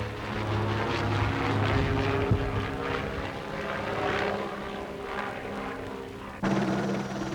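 Steady droning helicopter engine with rotor-like throbbing, continuous and fairly close, shifting in tone near the end.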